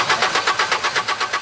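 A truck engine in rural Gabon cranks repeatedly with perfume poured into the air filter, giving a fast rhythmic churning starter sound, loud and close, without catching.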